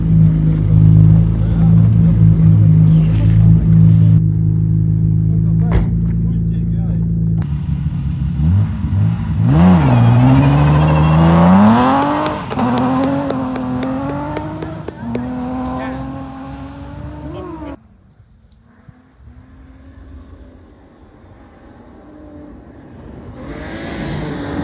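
Rally car at the start of stage 5 of Rallijs Cesvaine near Cesvaine, Latvia, after a broken-wheel repair, its engine idling loudly then revving hard through rising gear pulls before fading into distance.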